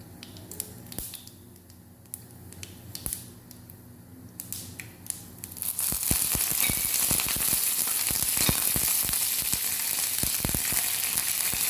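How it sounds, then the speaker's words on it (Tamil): Urad dal and toor dal fry in oil in a pan for pudina rasam, starting with scattered clicks and pops, then building into a loud, dense sizzle with sharp crackles and spatters close by. "உளுத்தம்பருப்பு, துவரம்பருப்பு கொஞ்சமாக ஆட் பண்ணிக்கலாம். இது நல்லா பொரியட்டும்."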